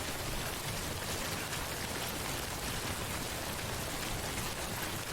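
Timefall rain from the Death Stranding video game falls as a dense, unbroken hiss of downpour, loud and even throughout with no other sounds standing out.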